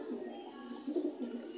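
A pair of pigeons coos in soft, low, rolling murmurs, faint and close, with the coos swelling slightly toward the middle.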